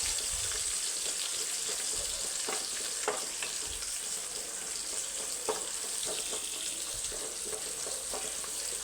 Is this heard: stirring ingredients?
yes